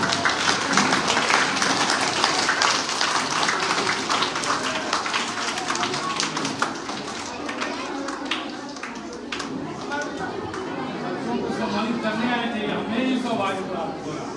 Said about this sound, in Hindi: तो जोरदार तालियां हमारे प्रिंसिपल